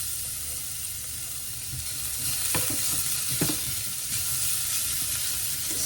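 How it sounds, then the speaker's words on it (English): Grated garlic and ginger stir-fried in a hot pan for soy chicken with noodles, giving a continuous bright hissing sizzle near the microphone with a few soft stirring knocks. "Stir fry them until they're really good and golden brown and smells fresh."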